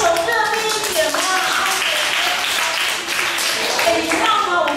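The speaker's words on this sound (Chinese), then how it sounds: "哎，给他拍拍手好吗？哎，拍手热烈一点嘛" A classroom audience claps their hands in a steady, dense patter lasting throughout, with a voice talking over the applause.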